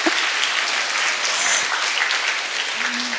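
Sustained applause from an audience at a Catholic secondary school's evening show in Hong Kong, dense and even clapping filling the hall without a break, with a brief voice or microphone tone near the end.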